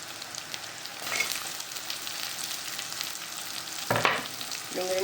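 Onion mixed with ginger-garlic paste in a pan, a soft continuous frying sizzle with a few louder scraping strokes of the spoon near the end, close by and without speech.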